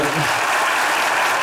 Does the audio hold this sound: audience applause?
yes